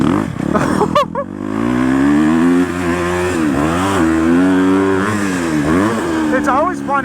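A Husqvarna FC250 dirt bike engine revs loud and close while riding, its pitch climbing and dropping through throttle changes, with brief wind noise at the start and end.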